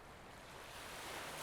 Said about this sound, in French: vous entendez l'océan respirer